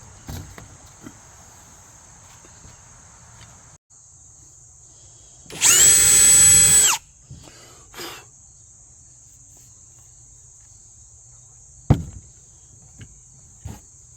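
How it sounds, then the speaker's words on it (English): A power drill whines in one short, loud burst of about a second amid faint background hum, followed later by a few sharp clicks. "So right around there is where I'm going to drill my hole."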